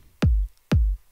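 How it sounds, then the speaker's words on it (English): Two deep, punchy kick drum hits from a layered dance-track drum part, spaced about half a second apart, each with a sharp click and a long booming low tail, played solo with no other sounds. "this kick drum"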